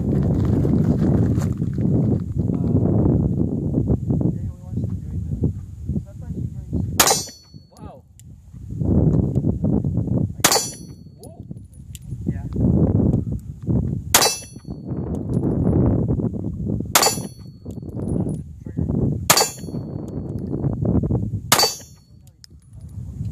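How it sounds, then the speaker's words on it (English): A Ruger LC9 pistol fires six single, sharp, loud cracks at roughly three-second intervals, each shot standing out clearly over a murmur of nearby voices and outdoor background. "Ruger LC9. First time shooting."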